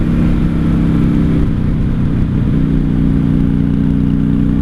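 A 1995 Honda Shadow VLX 600 VT600CD rides steadily in second gear, its V-twin engine droning loud and close with a deep, even rumble and wind rush throughout.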